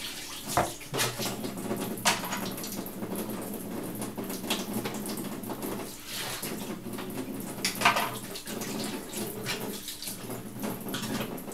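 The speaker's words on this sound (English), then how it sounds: "So you just want to make sure you wash your rice good" Water runs steadily from a tap with intermittent splashing and rattling as rice grains are swished around, close and continuous, with no talking.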